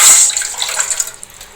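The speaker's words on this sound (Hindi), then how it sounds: "पानी डालना है" A cup of water poured into a pot for making sugar syrup, a brief loud splash that fades quickly into a few light trickles and drips.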